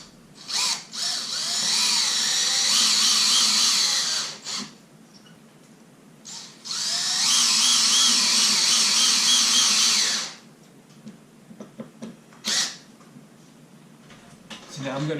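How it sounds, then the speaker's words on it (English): Power drill driving screws through a drywall patch near recessed lighting, two long loud whirring bursts with short spins and clicks between them, close up, with speech around them. "what we'll do is we'll put some screws through"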